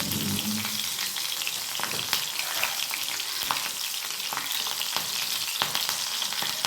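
Chopped green chilies with a pinch of nigella seeds sizzling in a pan, a dense continuous fry broken by sharp pops and spatula stirring clicks, close and loud with no talking.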